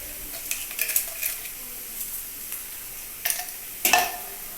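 Quiet hiss of spices frying in a pan with turmeric, salt and a little sugar, broken by several sharp metal clinks and scrapes of a spoon against the pan.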